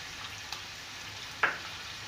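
Chicken stirred and frying in a pan, a faint steady sizzle with a couple of soft clinks from the stirring, no voices.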